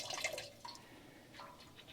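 Water trickles and drips from a newly unplugged drain orifice on a 1969 Pontiac GTO, faint splashy dribbles with small bursts, close by and with no talking.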